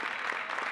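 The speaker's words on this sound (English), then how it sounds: "Let's give him a round of applause." An audience applauds a middle school student after his speech at a school event, steady dense clapping filling the short moment with no voices over it.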